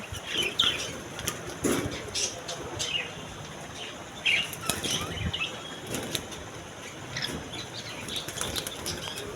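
Repeated bursts of cockatiels flapping their wings, with scattered chirps and soft cooing in the background, fairly close and continuous throughout.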